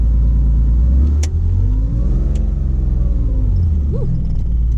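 A Porsche 911 2.8 RSR pulls away in first gear, its engine rumbling loud and close inside the cabin as revs climb and dip through a brief clutch change, with no voices.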